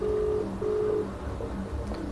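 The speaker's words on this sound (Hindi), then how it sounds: "देखो रिंग भी जा रहा" A phone call rings out over speakerphone in two long, even tone bursts separated by a brief gap, then the line goes quiet. The ringback is fairly loud and close, with no voices.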